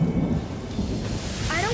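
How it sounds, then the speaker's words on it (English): Thunderstorm rumble from a Paw Patrol cartoon episode: a loud, steady low roar of thunder and rain fills the whole short stretch, with a brief rising voice-like tone breaking through near the end. "We want to stay clear of that big storm."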